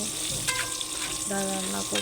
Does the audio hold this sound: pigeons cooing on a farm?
no